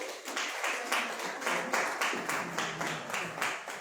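A crowd applauds to welcome a young girl at a prize distribution ceremony, steady rhythmic clapping swelling in regular waves, close and fairly loud with no voices over it.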